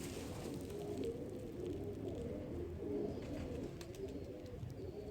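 A male Lakha pigeon gives soft, low, repeated coos against a quiet background hiss, with no talking.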